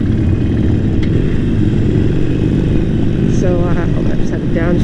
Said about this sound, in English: hold on, I just had to downshift because I was going too slow for that gear